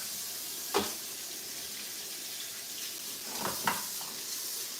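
Tap water runs steadily into a sink as fish scales are rinsed out, a soft continuous hiss broken by a few brief splashes and knocks.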